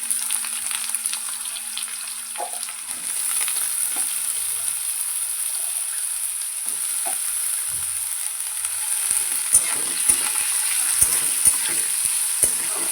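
Garlic fries in oil in a pan, ready for potatoes to be added next. A steady, close sizzling hiss fills the clip, and sharper stirring clacks appear toward the end.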